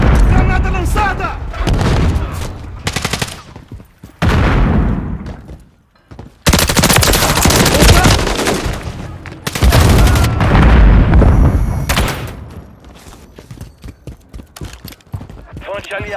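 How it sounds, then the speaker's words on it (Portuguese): Grenade blasts and gunfire in Call of Duty: Modern Warfare III multiplayer, with loud booming bursts and rapid automatic fire in dense, overlapping waves, cutting out briefly between volleys. "Granada lançada!"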